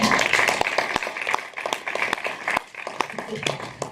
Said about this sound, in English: So please join me to give them a round of applause